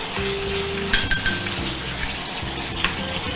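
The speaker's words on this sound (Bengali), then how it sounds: "এইবার এটা ভালো করে কষিয়ে নিয়ে এর মধ্যে একটু হলুদ দিয়ে দাও।" A spice paste with turmeric is stirred and sautéed in a pan, with a low sizzle under scraping stirs and a few sharp metallic clinks of a spoon against the pan, close and fairly loud.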